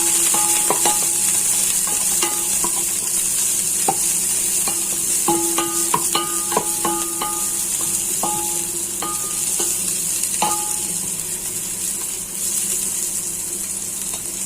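Onion sautéing in hot oil for a Jollibee-style spaghetti sauce, a steady broadband sizzle running the whole time with intermittent scraping stir clicks and clinks, close and fairly loud, no voices.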